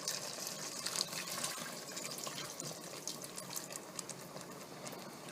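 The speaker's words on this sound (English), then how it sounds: "we're going to add another cup of hot chicken broth" Hot chicken broth poured into a pot of Jamaican-style oxtail stew, a faint continuous liquid splash and trickle with no talking.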